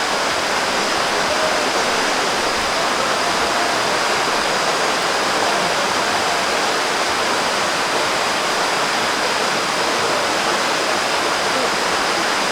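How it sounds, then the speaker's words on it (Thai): A waterfall at Mae Kampong, Chiang Mai, pours steadily, a constant broadband rushing hiss that stays even throughout without change. "มีได้ยินเสียงน้ำตกอยู่"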